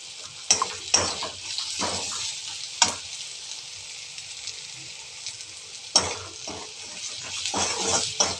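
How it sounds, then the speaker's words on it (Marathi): Chili, salt, turmeric and coriander powder sautéing in a pan over a lowered gas flame, with a steady soft sizzle broken by sharp clinks and scrapes of a spoon stirring against the pan, heard alone and close. "हे सगळं आपण यामध्ये टाकूया आणि हे छानसं असं परतून घेऊया"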